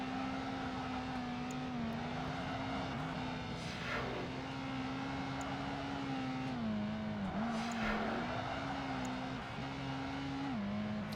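A coupe's engine in Project Gotham Racing 2 holds a loud, sustained racing drone, with its pitch wavering as gears and throttle shift. No talking is heard.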